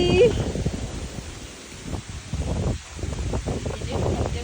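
Gusty storm wind at night buffets the microphone in low rumbling bursts, with faint rustling and a voice speaking briefly at the start.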